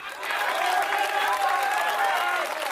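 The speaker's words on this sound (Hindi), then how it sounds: "जितनी तालियां आपकी इस बात पर बजी" Audience applause at a Hindi poetry gathering, with steady, dense clapping from a large crowd that swells and continues throughout, mixed with faint crowd noise.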